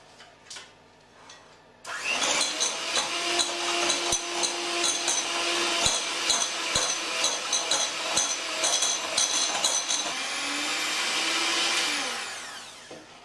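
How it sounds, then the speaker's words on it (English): An electric hand mixer or whisk runs in a bowl of sweet dolsho cake batter, a loud, steady whirring motor with rattling bursts and clacks against the bowl, switching on abruptly and winding down near the end. "And now I'm just going to give it a really good whisk."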